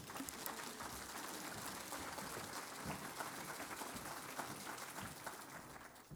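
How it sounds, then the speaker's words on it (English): Sustained applause from an audience at a small business awards ceremony, steady and dense clapping filling the whole stretch at moderate distance with no break. "we'll give you a round of applause"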